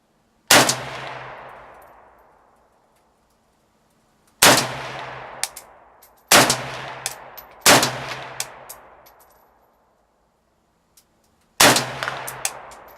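Five loud, close gunshots from an M72B1 built from an Apex parts kit ring out at irregular intervals, each sharp crack decaying into a long echo, with silence between shots.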